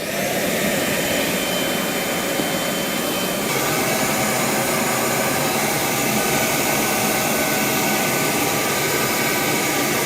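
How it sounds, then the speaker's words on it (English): A Milwaukee cordless vacuum runs flat out at full power, a loud, steady, broadband whine and rush of air that holds unbroken throughout, close by with no voices. "I'm going to bung this on full whack and run it until it runs out."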